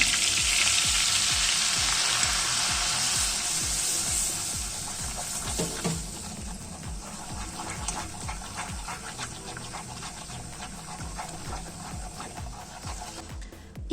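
Two tablespoons of flour cooking in melted butter in a soup pot give a steady, dense sizzle and fry that stays loud and close throughout, easing slightly partway through, with no voices.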